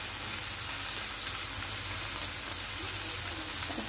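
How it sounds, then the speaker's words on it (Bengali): Paneer sizzling in a pan, a dense, even crackling fry that holds at one level throughout, with no voices over it. "পনির এই যে এরকম করে ভাজা হলো"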